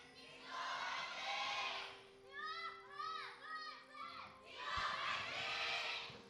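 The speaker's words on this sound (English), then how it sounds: "as you guys can probably tell by the thunderous applause, the studio is entirely packed out" A packed esports studio crowd at a League of Legends match between KING-ZONE DragonX and SK Telecom roars and cheers in loud bursts, separated by a quieter stretch of excited shouting voices.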